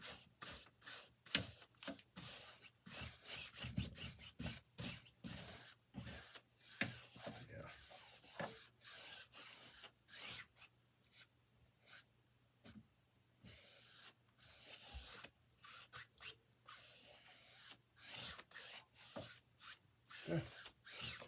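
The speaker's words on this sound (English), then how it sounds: "I'm going to smooth it out with a brush, because you don't want it to be, you don't want harsh lines." A paintbrush smoothing paint across canvas, producing many short, faint scratchy strokes in an uneven rhythm, close up and quiet, with brief pauses between bursts.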